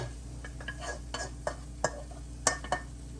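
Metal utensil scraping and clinking against a pan as sautéed mushrooms and their juices are lifted out, a handful of sharp clatters spread over a few seconds above a steady low hum.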